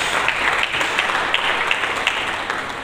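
Church congregation applauding during an Indonesian-language sermon, a dense, steady wash of many hands clapping that fills the whole stretch at fairly high level, with no speech over it.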